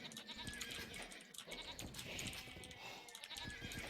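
Goat bleats from an Age of Empires match ring out repeatedly amid busy game sounds, a steady mix of effects with short bleating calls scattered throughout.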